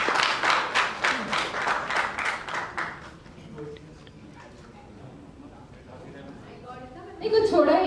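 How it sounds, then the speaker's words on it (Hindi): Audience applause breaks out for a man during a comic public stunt, loud, dense clapping for about three seconds, then fading into quieter crowd murmur and talk, with a brief louder burst of voices at the end. "जोरदार तालियां हो जाए"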